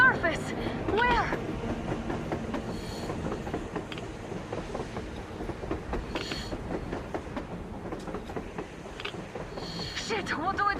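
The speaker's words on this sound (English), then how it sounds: "A damn train on the surface!" A train runs on the surface in Metro Exodus, rhythmic rattling and clattering wheels on rails rolling continuously at moderate loudness, with voices talking over it.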